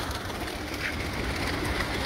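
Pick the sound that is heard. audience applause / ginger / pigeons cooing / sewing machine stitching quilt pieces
pigeons cooing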